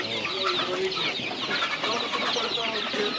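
Month-old Adler Silver chicks and chickens cluck and peep in a busy cluster at an outdoor poultry market, a dense, continuous chatter of birds close by with some background voices.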